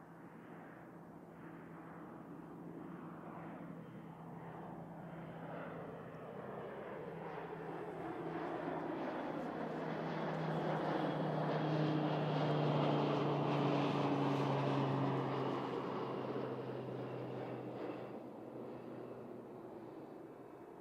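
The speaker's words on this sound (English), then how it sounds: "beautiful PC12 sounds here. No doubt off to Blenheim or Picton." A Pilatus PC-12 turboprop flies overhead, its propeller drone building from a distance to a broad peak near the middle, then fading away again. The sound is fairly faint overall, with no voices.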